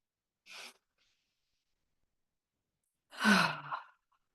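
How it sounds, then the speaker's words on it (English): A slow deep breath in and out during a guided meditation, heard as a short soft intake followed after a pause by a longer audible breathy exhale, close and otherwise silent. "Take a nice deep breath in and out."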